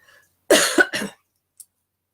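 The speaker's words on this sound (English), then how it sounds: "Clear my throat." A single person clears their throat with two or three rough, harsh bursts close to the mic, then a tiny click, then silence.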